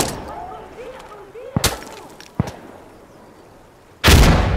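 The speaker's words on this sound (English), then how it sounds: "Throwing frag!" A frag grenade blasts loudly in the tactical shooter Insurgency Sandstorm, a sharp heavy boom near the end, preceded by a couple of distant gunshots and faint voices in the background.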